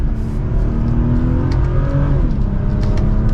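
A BMW M240i xDrive engine revs steadily up through second gear in eco mode, a loud, close, continuous mechanical drone with no voices.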